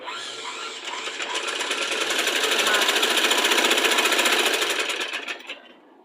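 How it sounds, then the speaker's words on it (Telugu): A sewing machine stitches the side joints of a child's dress in one continuous run of rapid, even needle clatter, loud and close, speeding up to a steady pace and then slowing to a stop. "అదేవిధంగా ఈ హ్యాండ్ కూడా స్టిచ్ చేసేసుకోవాలి"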